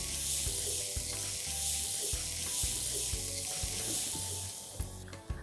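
Sprouted moth beans and mung beans sauté in a pan with Kashmiri red chilli powder and turmeric, giving a steady, moderately loud sizzle with regular scraping stir strokes and a couple of sharp clacks near the end; no talking.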